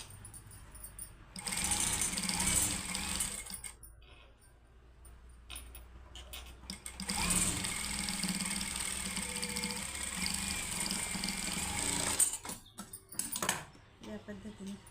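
A sewing machine stitches a blouse in two sustained runs of steady mechanical whirring, the first short and the second longer, separated by a brief pause and ending in scattered clatter.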